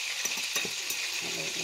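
Eggplant salad with vegetables and chicken breast is stirred in a bowl at home: soft, quick scraping and light clinks under a constant hiss.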